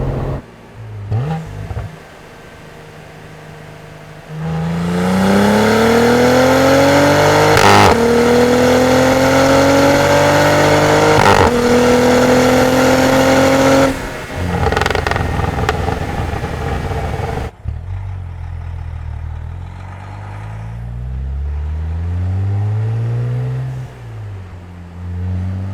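A Cadillac CT4-V Blackwing accelerates hard with a loud, rising engine roar broken by quick no-lift upshifts, then settles into a quieter, lower drone while cruising.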